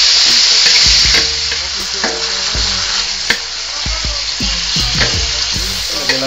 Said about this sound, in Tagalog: Saglit lang maluto tong beef na to